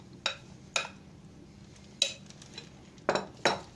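A wooden spoon works through orange biscuit dough in a bowl, producing five sharp, separate knocks and scrapes against the bowl's side with quiet pauses between, close and fairly soft.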